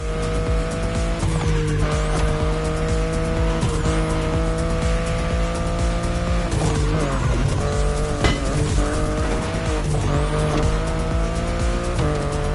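A BMW i8 hybrid sports car in the racing video game The Crew Motorfest drives hard, its engine droning loud and continuous with shifting pitch and bursts of tire squeal, no voices present.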